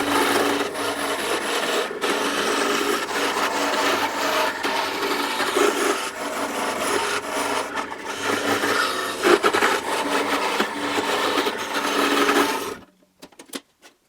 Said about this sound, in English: So it needs a rectangular hole cut in it.